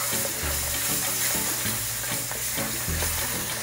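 Tomatoes go into a pot of sizzling shrimp gumbo with bell pepper and celery, producing a steady, fairly quiet frying hiss with stirring clinks and rhythmic scraping throughout.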